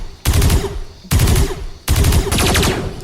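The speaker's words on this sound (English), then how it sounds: "the sound of automatic blaster fire rang out in the night air" Automatic blaster fire crackles in three loud, rapid bursts, each a fast rattle of shots separated by short pauses, close and forceful.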